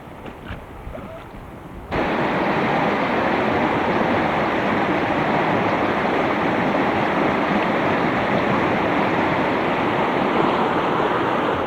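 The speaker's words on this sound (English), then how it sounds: "This part of the brook brings us some rapids that would be better dealt with by going around." Rapids on a salmon brook rush steadily, a loud, continuous broadband roar of water that surges in abruptly after a quieter opening and then holds constant to the end.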